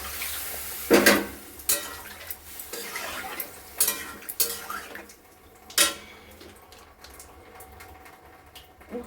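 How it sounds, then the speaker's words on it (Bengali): Water goes into a pan of curry made with mustard paste, ginger and a little sugar, heard as splashing bursts mixed with clattering of the pot and utensils, irregular and fairly close. "এবার জল ঢেলে দেবো।"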